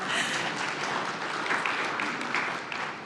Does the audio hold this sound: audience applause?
yes